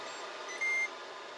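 A short electronic timer beep, a single clean tone under half a second long, rising clearly over steady background hum.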